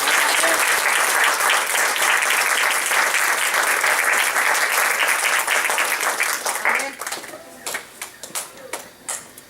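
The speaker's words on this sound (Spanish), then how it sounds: "Ese aplauso fue para quién." An audience breaks into loud, dense applause at a church gathering, a sustained roar of many clapping hands that thins after about seven seconds into scattered claps.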